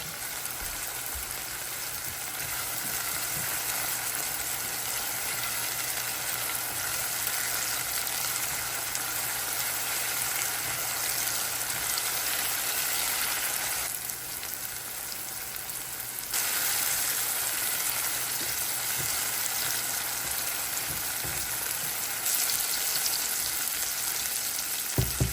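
Tomatoes and jalapenos cooking in a pan until tender: a continuous broad sizzle that holds steady for about twenty-five seconds with a faint low hum underneath, occasional soft bumps, and no speech.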